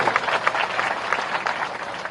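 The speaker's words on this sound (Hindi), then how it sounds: "ताली बजा के स्वागत करो, जीत की शुरुआत है।" Crowd at a BJP public meeting in Raisen applauding to welcome a councillor elected unopposed: a brief, steady patter of many hands clapping at moderate distance.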